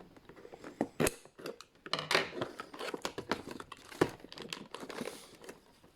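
Scissors snip and tear through the crinkly plastic packaging of AEW Unrivaled wrestling action figures. Sharp cuts mix with loud rustles and crumpling at an uneven rhythm, close up, with no talking.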